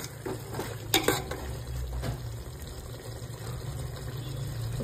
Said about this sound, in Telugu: నీళ్ళు రిలీజ్ అయ్యి ఇలా ఉడుకుతూ ఉంటాయి.